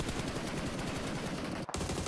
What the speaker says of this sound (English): Just blasting the bullets out, as is Schweppes, who is very low on the amm